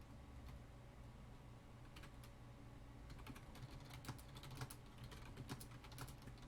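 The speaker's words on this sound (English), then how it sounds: "I'm just typing away" Quiet, steady typing on a computer keyboard, a string of small irregular clicks that quicken toward the end, heard close and alone over faint room hum.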